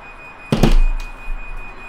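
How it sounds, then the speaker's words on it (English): A garage door closing in a home garage sounds as one sudden thudding impact with a short rumble, followed by a fainter low knock, with no talking. "That's the garage door closing."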